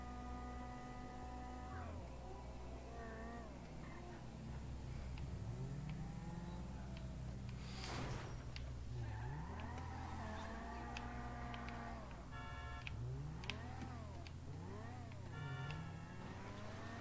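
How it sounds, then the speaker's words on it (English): Car engine revving and rumbling over a rough road in a driving video game, with repeated rising and falling pitch sweeps as the vehicle accelerates and bumps along, steady and close with scattered game effects. "Wow, this road's rough on my car."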